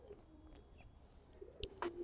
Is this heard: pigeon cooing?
yes